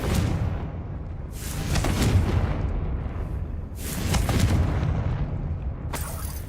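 Confringo spell cast in the Hogwarts Legacy video game, heard as loud rumbling booms that swell and fade, two main blasts followed by a sharper burst near the end.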